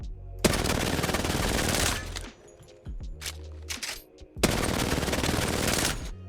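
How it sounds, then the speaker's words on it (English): R99 submachine gun fired from the hip in the shooter game Apex Legends: two long, loud sustained bursts of rapid automatic fire, separated by a quieter stretch with a few isolated shots and mechanical clicks. "I'm going to hip fire. I'm going to do the same thing with the R99."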